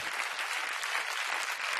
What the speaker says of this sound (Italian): Fate un applauso a Giovanotti.